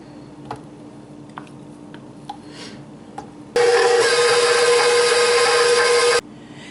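A mixer creams sugar and Crisco shortening into whoopie pie batter, a loud steady whir running for about three seconds after a few soft taps and clicks, with no talking.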